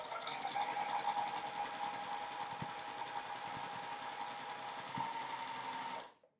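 A sewing machine runs steadily, stitching across the top border of a charm pack quilt wall hanging, a continuous whirring drone that holds for about six seconds before stopping abruptly.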